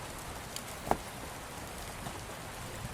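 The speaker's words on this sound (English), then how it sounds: "As you awake, you hear heavy rains sweeping down." Heavy rain pours down as ambience for a Pathfinder tabletop role-playing session, a steady dense patter of drops with a few brighter individual taps, moderately quiet and without any voices.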